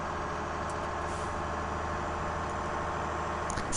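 A truck engine in Farming Simulator 17 runs as a steady, loud, low idling drone that holds evenly throughout, with no voices.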